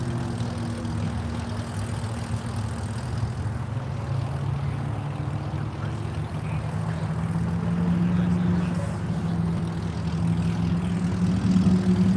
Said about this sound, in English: Getting a lot of splitter chatter under braking there.